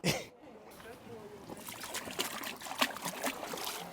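Water trickles and splashes as a freshly caught squid is rinsed on a fishing jetty, a close, uneven dribbling with small splatters that grows busier toward the end, mixed with someone talking.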